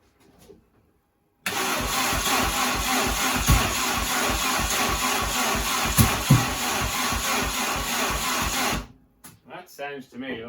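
Mini fitted with a C20XE engine cranking and firing roughly on uncertain ignition timing, a loud, steady rhythmic churn for about seven seconds before cutting off, with a person talking quietly before and afterward.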